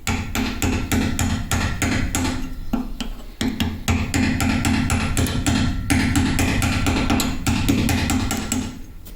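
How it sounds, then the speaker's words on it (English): A chisel hammered against dried grout on a CNC vice mount setup gives rapid, loud metallic taps in a dense steady stream, close by, briefly pausing once, with no speech. "So you can chisel away at it like this."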